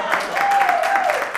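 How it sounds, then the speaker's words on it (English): Brief applause from a live studio audience, a steady patter of clapping lasting about a second and a half with a faint vocal tone running through it. "Pinky clap for me"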